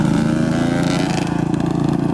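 A small engine, an ATV or motorbike ridden around by families, revs steadily nearby with a buzzing, pulsing drone that wavers in pitch over a couple of seconds.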